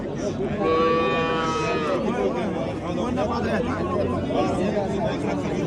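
Cattle, including bulls, moo amid the busy Kattaqo'rg'on livestock market in Uzbekistan, with steady crowd chatter and voices mixing throughout.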